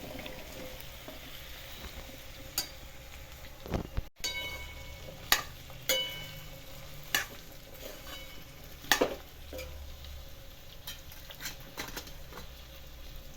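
Okra tossed into a pan with lightly browned onion for village-style okra thecha, stirred and frying with soft sizzling, scattered scraping and clattering stirs, and sharp utensil knocks at irregular intervals, no talking.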